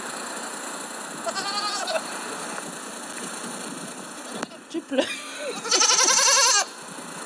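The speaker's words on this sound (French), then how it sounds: "La chèvre et ses chevretons." A goat bleats twice, a short wavering cry and then a longer loud one, over a steady engine-like hum outdoors, with people talking briefly between the calls.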